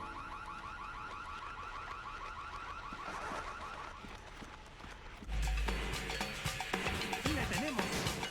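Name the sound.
alarm in Splinter Cell Chaos Theory video game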